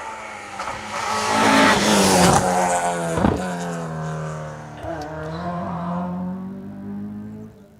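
A Ford Escort rally car races through an asphalt rally stage, its engine roaring and climbing through gears nearby, then pulling away and fading, with a sharp burst of tire and gravel noise midway.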